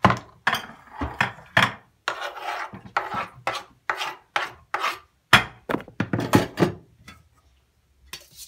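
A knife slicing a pickle on a cutting board while making Russian salad, with a series of close, crisp cuts in an uneven rhythm, each a short rasping chop followed by a brief pause, then silence at the end.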